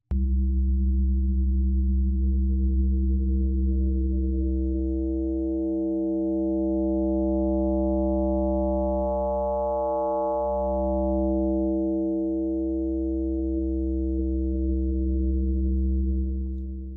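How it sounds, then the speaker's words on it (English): A steady synthesized tone whose harmonics swell and fade as frequency modulation is turned up and down, sustained loudly without pause. "when we add FM, the signal, as seen in the scope, no longer resembles a sine wave very much"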